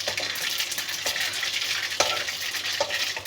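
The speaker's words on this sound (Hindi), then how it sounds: "सरसों का तेल अच्छी तरह आप पका लें और 1 चम्मच डाल दें इसमें राई" A spoonful of mustard seeds crackles in well-heated mustard oil, making a loud, even, close hiss with a few sharp pops and ticks scattered through it.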